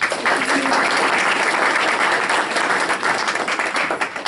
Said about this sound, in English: but we'll give her a round of applause